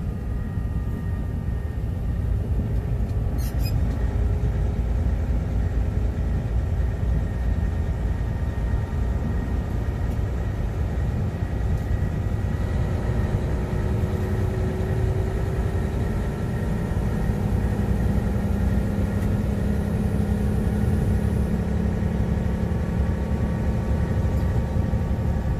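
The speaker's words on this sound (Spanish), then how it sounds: "A ver qué tal se escucha ahí el motorcito joncando." A small motor runs steadily in traffic, giving a continuous loud, low rumbling drone with no breaks.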